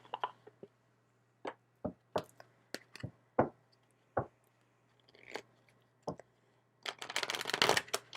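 A deck of angel tarot cards is handled and shuffled, sparse soft taps and flicks of cards separated by quiet gaps, ending in a denser burst of riffling near the end.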